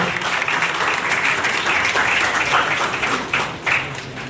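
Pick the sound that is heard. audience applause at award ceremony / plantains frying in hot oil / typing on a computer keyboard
audience applause at award ceremony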